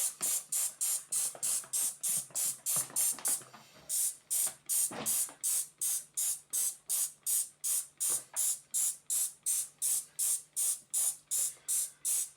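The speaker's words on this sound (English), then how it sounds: "just going to use the spray bottle, and I'm just going to pre-soak the compost" A spray bottle squirts in a steady, rapid rhythm, pre-soaking compost for sowing tomatoes, each trigger pull giving a short hissing mist burst, repeated many times, close by.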